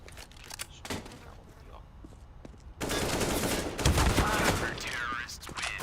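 Burst-mode rifle fire in the online shooter CS:GO: a dense, loud rattle of rapid shots fills the second half after a quieter stretch with a voice and game sounds.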